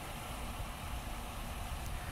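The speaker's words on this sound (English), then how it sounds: "and then the engine starts up" A 2006 Chevy Uplander minivan engine idles steadily after a remote start, giving a continuous low rumble with broadband noise close by, no voices.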